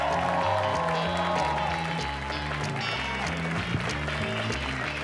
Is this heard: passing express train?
no